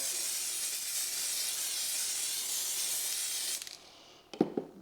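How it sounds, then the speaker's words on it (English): Spray hissing steadily over a layer of 6 mm wild meadow static grass on a model railway, a close continuous hiss for several seconds that stops, followed by a few faint handling clicks. "So now it's a case of layering spray again, spray it over the top."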